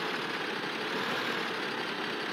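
A steady, droning tractor engine in Farming Simulator 15 while plowing, running continuously at an even pitch with no breaks.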